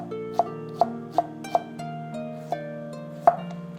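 A knife slices vegetables on a board in about seven crisp, separate cuts at an uneven pace, heard up close over steady background music.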